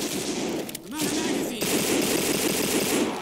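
Gunfire in the zombie video game No More Room In Hell: a sharp shot followed by a dense, sustained crackle of firing, fairly close, with a brief lull before it continues.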